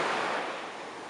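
Ocean surf rolling in on the Gulf of Mexico shore, a steady broadband wash of breaking water that stays loud and continuous and fades very slightly toward the end.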